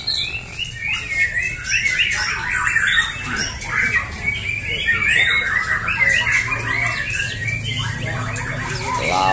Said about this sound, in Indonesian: Persiapan hijau mania adu prestasi Murai Batu di gantangan lomba